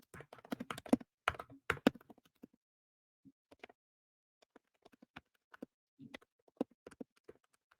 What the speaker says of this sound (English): But now when we type a message,